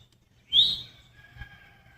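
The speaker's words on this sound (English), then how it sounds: "Listen to the birds." A single bright bird chirp rings out, followed by a faint trailing whistle over a quiet outdoor background.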